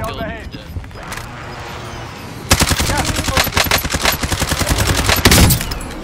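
Rapid automatic gunfire from the Amax assault rifle in a multiplayer shooter video game, loud sustained bursts with brief gaps, preceded by quieter game sounds and footsteps, with a player talking over it.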